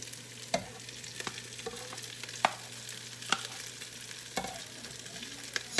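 Cooked jasmine rice being stirred and toasted in a pan for vegan fried rice, with a soft steady sizzle and scattered sharp scrapes and knocks of the utensil against the pan, no voices.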